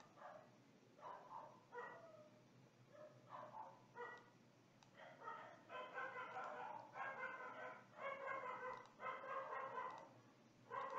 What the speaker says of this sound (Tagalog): Medyo maingay lang yung mga aso ng kapitbahay.